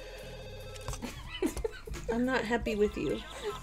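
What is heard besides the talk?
telephone ringing in The Sims 2 video game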